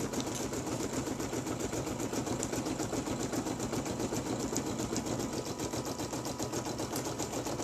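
An embroidery machine stitches the two pieces of a football-themed card holder together, a fast, even, steady chatter that stays fairly quiet and unbroken throughout.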